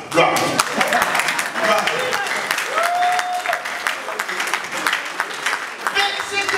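Audience at a tribute event clapping loudly and steadily, with scattered voices and shouts mixed into the applause throughout.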